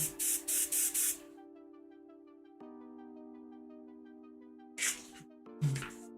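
Short close bursts of airbrush spray hiss as paint goes onto a model jetfighter, four quick pulses in a row, then a steady compressor hum, then two more sprays near the end.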